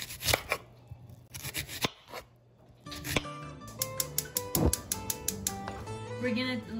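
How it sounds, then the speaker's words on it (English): Onions being cut with a knife on a board while making tinga seasoning, a run of crisp, fairly close slicing and chopping strokes with short pauses, irregular in rhythm, no talking. "we're gonna cut up 4 onions."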